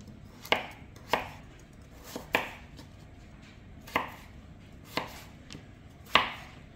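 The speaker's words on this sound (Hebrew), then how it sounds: "אנחנו חותכים הגזר ככה" A knife chops a carrot on a cutting board in a slow, uneven run of about nine crisp, close thuds, each with a short sharp click, with no speech.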